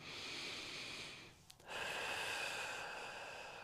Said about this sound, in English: So we're going to do a deep breath in.